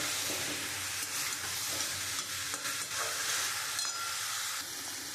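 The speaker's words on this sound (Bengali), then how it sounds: "এবার আলু সয়াবিনটা দিয়ে খুব ভালো করে আমি একটু কষিয়ে নেব" Potato and soybean chunks sizzle and fry in hot spiced oil while being stirred, with scraping strokes and crackling close up, loud and continuous, no talking.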